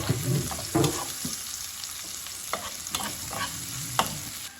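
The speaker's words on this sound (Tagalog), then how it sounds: "ilagay na rin yung bawang. Siyempre, kasunod na yung sibuyas, kamatis yan" Garlic, onion and tomato sauté together in a pan for a tilapia dish, a steady close sizzle broken by repeated stirring scrapes and light clinks, with no talk over it.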